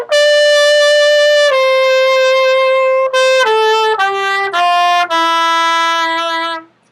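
Solo trumpet plays the second harmony line from a song, bright and close, with long held notes followed by a short stepping phrase that descends and settles on a sustained low tone.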